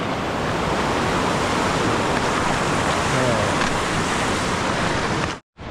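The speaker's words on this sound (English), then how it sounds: "Crossing the creek." Creek water rushes in a dense, steady roar throughout a hiking trail crossing in the Sierra backcountry, loud and close, cutting out abruptly near the end.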